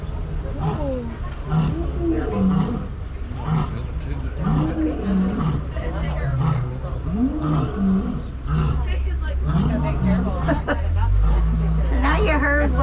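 A male lion roars at a safari park in Disney's Animal Kingdom, heard as a series of deep, rhythmic grunting roars that repeat steadily over a low vehicle rumble while people chatter in the background.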